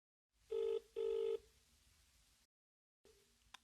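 A telephone rings twice in a quick double burrr, clear and close, followed by a fading hiss, a pause and then a click as the line connects.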